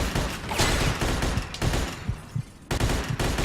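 Enemy gunfire in the Mafia 2 video game, with dense overlapping bursts of automatic fire from several shooters at once. It is loud and continuous, breaks briefly near the end and then resumes.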